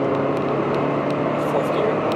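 A fifth-generation Honda Prelude engine pulls hard under full throttle, a steady loud drone with dense broadband noise filling the whole stretch without pause.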